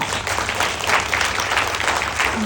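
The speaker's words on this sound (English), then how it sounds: "Can we give a big round of applause?" Audience applause in a room at a wellness business event, a steady dense wash of clapping that holds at an even level for the whole stretch with no talk over it.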